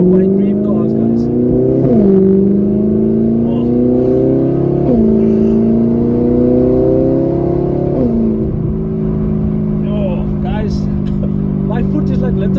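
A straight-piped Audi R8 is driven, its loud engine droning close by and climbing in pitch through repeated gear changes, with a few short lifts and shifts before a steadier cruise. Voices talk over it.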